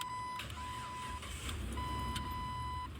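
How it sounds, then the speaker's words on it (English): A faulty turn signal relay in a 2001 Jeep Wrangler gives a faint, steady electrical buzz with a thin whine, plus a few soft clicks over a quiet background. "You hear that? It's just buzzing."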